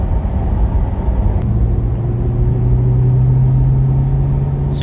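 A 2020 Chevy Corvette driven with paddle shifting in manual mode gives a loud, steady engine drone and cabin rumble with a low tone that rises gradually, heard alone without talk.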